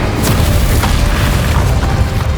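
Magic spell blasts in Hogwarts Legacy, a loud, continuous rumbling boom with crackling bursts layered over it, dense and close throughout with no talk.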